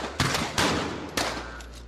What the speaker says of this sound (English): suddenly gunshots were heard